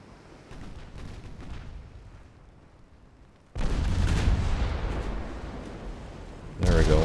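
A 10.2-inch naval gun firing in a warship game set in an 1893 Ottoman campaign, deep booms that burst in suddenly after a quieter stretch, a second loud blast near the end, with someone speaking.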